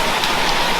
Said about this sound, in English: we've just had 10 millimetres of rain so far